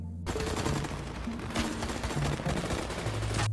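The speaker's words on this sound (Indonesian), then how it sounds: "Terdengar beberapa tembakan dari dalam hutan." A continuous, dense burst of gunfire from inside a forest, rapid overlapping shots forming a loud roar that starts abruptly and cuts off after a few seconds.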